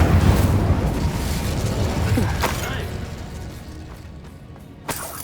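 The Incendio fire spell from the video game Hogwarts Legacy is cast with a heavy booming burst that rolls and fades over several seconds, followed by a short sharp hit near the end.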